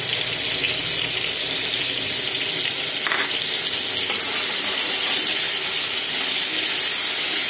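Water goes into a pan of mango chutney cooking with salt, turmeric and chilli powder, giving a steady sizzling, hissing wash that holds at an even level throughout, with no voices.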